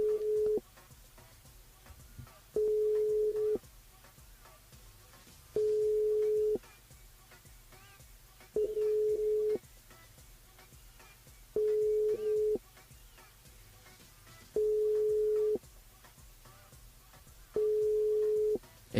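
Ringback tone of an outgoing phone call during a live radio show draw: a steady beep repeats about every three seconds, seven rings with silence between, clear and alone.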